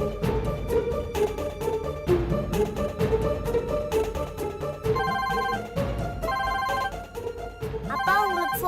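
A telephone ringtone plays loudly and continuously in a home, a repeating melodic electronic pattern that cycles several times over a steady background, with no one speaking.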